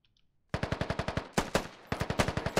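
Rapid automatic gunfire in a multiplayer shooter video game, a long rattling burst of evenly spaced shots with two brief pauses, loud and close, with no talking.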